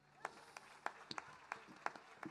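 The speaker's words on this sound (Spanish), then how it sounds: "Así que otro aplauso más para Ernesto." Scattered, fairly faint applause from an audience at a jazz festival, a handful of separate claps spread irregularly over a couple of seconds.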